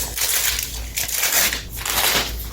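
Gift-wrapping paper being torn and crinkled off a book, a steady close rustle and crunch of paper lasting throughout with brief louder rips.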